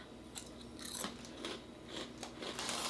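Crunchy bites and chewing of a heavily coated spicy red Cheeto, close and fairly quiet, with repeated crisp crackles spread across the moment.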